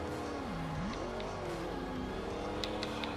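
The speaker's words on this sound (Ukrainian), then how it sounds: "От тачка форсажа їде." A Fast and Furious Ford Escort races in Forza Horizon 2, its engine droning steadily and rising and falling in pitch as it accelerates and shifts, heard alone without talk.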